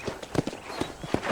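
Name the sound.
horse hooves in Red Dead Redemption video game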